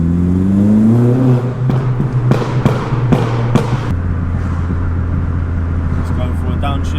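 A Stage 2 MK4 Golf GTI revs up inside a tunnel, the engine climbing, then lifting off with a series of sharp pops and cracks before settling into a steady drone with echo.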